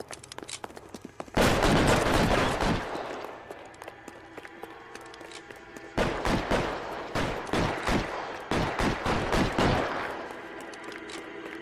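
Gunfire in the LA Noire video game: dense bursts of rapid shots, a loud volley near the start, then a pause and a second stretch of repeated sharp bursts, with low background hum between.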